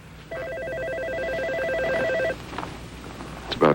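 An old-style telephone trills in a steady, rapidly pulsing electronic ring for about two seconds, then stops, leaving quiet room noise and a faint handling clatter at the end.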